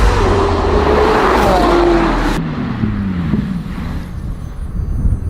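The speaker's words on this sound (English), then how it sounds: "The McLaren is driving amazing" McLaren 720S sports car on a race track, its engine tone rising and falling as it passes close by with heavy wind buffeting, then fading into quieter background road noise.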